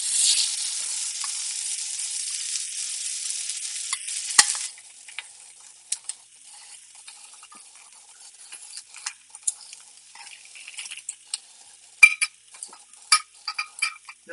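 Tuna searing in a very hot pan, with a loud steady sizzle for about four seconds that then drops to a quieter crackle with scattered pops and clicks.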